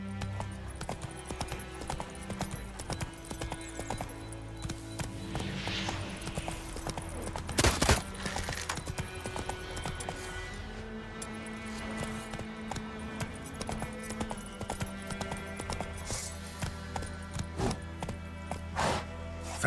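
Roach, Geralt's horse in The Witcher 3, gallops steadily with rhythmic hoofbeats, a brief whinny and snort, set against game music and ambient sounds throughout.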